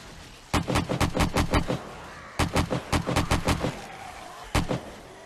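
Rapid bursts of gunfire ring out in the zombie survival game 7 Days to Die in a snowy winter setting: a quick run of six sharp shots, a pause, another volley of about six, then one final shot, loud and close with no voices.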